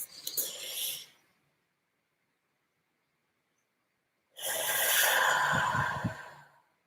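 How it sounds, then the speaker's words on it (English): Two slow, deep breaths drawn in close to the ear, each a long airy rush separated by a stretch of silence, with no talking. "Breathing in again."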